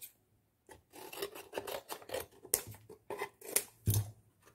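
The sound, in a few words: cutting cardboard box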